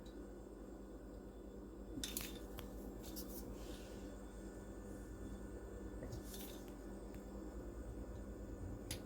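Knife or pastry cutter slicing rolled Danish pastry dough into three-inch squares, heard as a few short, close scraping cuts over a steady quiet background hum.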